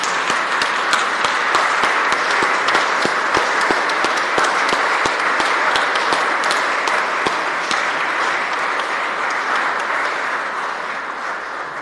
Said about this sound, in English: And a round of applause, a standing ovation tonight.